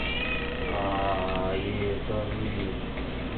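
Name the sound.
kitten meowing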